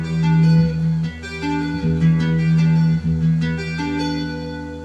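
Electric guitar tapping pattern, a steady run of sustained, overlapping tapped notes played alone at moderate loudness.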